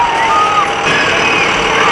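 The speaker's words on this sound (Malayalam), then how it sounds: "സീനയുടെ വണ്ടി പാർക്ക് ചെയ്യാൻ വേണ്ടിട്ട് പോകുന്നു." A car is being manoeuvred into a parking spot, giving a loud, steady engine and road rumble with faint high tonal beeps running through the whole short stretch.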